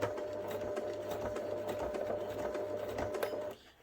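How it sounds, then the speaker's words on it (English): A sewing machine runs a short burst of reverse stitches with a close, even mechanical whir and rhythmic needle clatter, stopping abruptly near the end; no voices. "I'm just going to do my reverse stitches to start"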